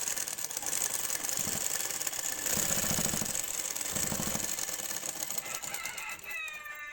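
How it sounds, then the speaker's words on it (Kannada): A sewing machine stitches a blouse piece and its lining together, its needle chattering in a fast, even mechanical rhythm with short stronger runs, fairly quiet against steady background noise. "ಲೈನಿಂಗ್ ಹಾಗೂ ಬ್ಲೌಸ್ ಪೀಸ್ ಎರಡೂ ಸೇರಿಸಿ ಸ್ಟಿಚ್ ಮಾಡ್ತಾಯಿದ್ದೀನಿ"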